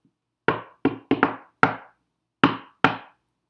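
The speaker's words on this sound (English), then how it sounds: "So I come knock on the door." Seven sharp knuckle raps on a door, close and loud, in an uneven pattern of a single knock, a quick pair with a double, then single knocks, with silence between and no talking.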